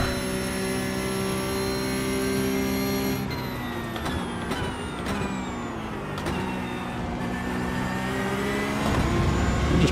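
A race car engine in a racing video game, a steady high-pitched roar with strong harmonic whine that shifts pitch as gears change, loud and continuous with no talk.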